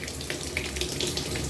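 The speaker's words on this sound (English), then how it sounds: "I'll then put on the water" Tap water runs steadily into a Tupperware tub being filled for a cat's bath, a continuous close splashing rush with no voices.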